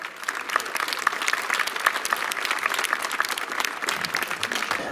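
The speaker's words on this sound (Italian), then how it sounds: "Accogliamolo con un grande applauso." An outdoor crowd in a town square applauding to welcome a political candidate, dense overlapping claps that hold steady and fairly close for several seconds, with no talking.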